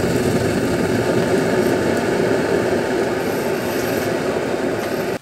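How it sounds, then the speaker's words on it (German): An Optimus Polaris multi-fuel camping stove burns gas after piezo ignition, giving a steady, loud, close roar that holds evenly for about five seconds before cutting off abruptly. "Jetzt kann ich den Kocher aufschrauben und mit dem Optimus Sparky, so ein Piezo-Anzünder, kann ich"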